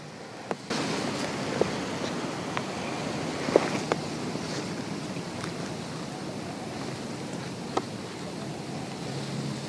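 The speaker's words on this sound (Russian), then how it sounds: "Ветер вообще." Wind gusts across an open lake at a feeder-fishing spot, producing a constant broadband rush with microphone buffeting and a few faint clicks and knocks scattered through it.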